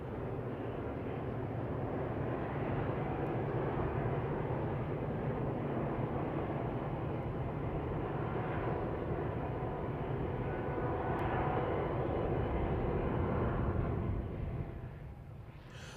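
Long freight train on the Santa Fe line near the San Gabriel Mountains, a sustained heavy rumble of locomotives and rolling cars that stays steady throughout and eases slightly near the end.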